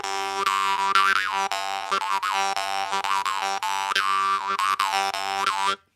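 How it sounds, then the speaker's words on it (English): A Kyrgyz kopas jaw harp twangs in a bouncy, rhythmic pattern, its buzzing drone shifting in overtones, played solo and close before stopping abruptly. "This is a Kyrgyz kopas."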